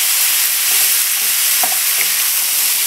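Farro and pistachios are tossed in a hot pan with a splash of reserved cooking liquid, giving a steady, bright sizzle with a few soft knocks of stirring, close and brief.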